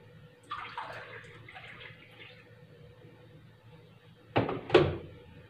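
Hot water poured into a glass: a soft splashing trickle runs for about two seconds, then after a quiet gap a shorter, louder pour comes close up, with no talking.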